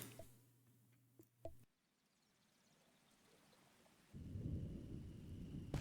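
A rainstorm in the train simulator game Derail Valley on a dark, stormy night: faint, quiet patter with a few soft thumps, then a steady, louder rush of rain in the final seconds.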